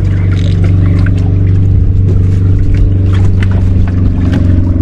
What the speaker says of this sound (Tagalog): Dinadaan tayo kagad ng bangka.